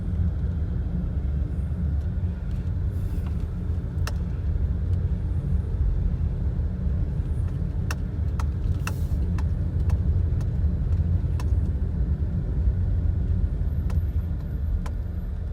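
Steady low rumble of a car rolling along a main park road in North Naples, Florida. The sound is continuous and moderately loud, with scattered faint clicks and ticks and no talking.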